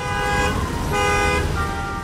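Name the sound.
car horns honking at airport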